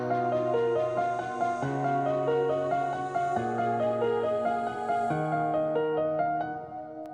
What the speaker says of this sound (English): This is Timpani Spiccato ARP.